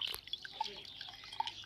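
Water drips in small, quiet drops while it is strained through something to hold back seeds, in a home kitchen setting. The drops are faint, sparse and irregular, with no voices.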